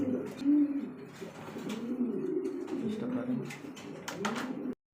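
Golla pigeons, a red checker pair of top-quality show birds, coo in a steady low rolling murmur close by, several overlapping calls running through with faint chirps above.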